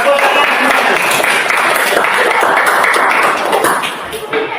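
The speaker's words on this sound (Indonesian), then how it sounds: "Tepuk tangan semua." A school class applauds in a classroom during a lesson, close and fairly loud scattered clapping that thins out toward the end.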